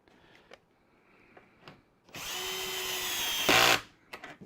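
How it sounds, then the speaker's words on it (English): A power drill drives a screw into a wooden drawer in one continuous whine of about two seconds that rises at the end as the screw seats, preceded and followed by faint clicks and handling taps. "These screws are going in around 14 millimetres"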